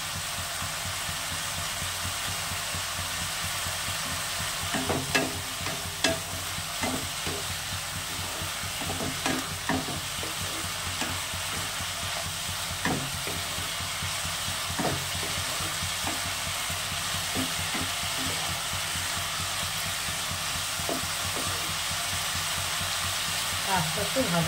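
Bitter gourd, potato and onion fry steadily in a pan, a continuous soft sizzle with occasional scraping stir clicks running throughout.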